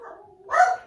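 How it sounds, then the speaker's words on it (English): A dog gives a single short, fairly loud bark at someone passing by, lasting under a second with nothing else around it. "He barked at that man when he walked down to the shop a minute ago"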